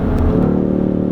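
A 2018 Ford Mustang EcoBoost driving through a turn, with a steady, loud engine drone heard from inside the car and no talking.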